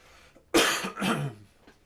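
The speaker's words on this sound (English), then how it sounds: "I'm getting over a cold I had earlier in the week, so I'll probably cough a few times throughout the video" A person getting over a cold lets out two close, rough coughs, near and fairly loud, with no talking.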